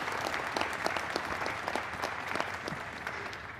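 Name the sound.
audience applause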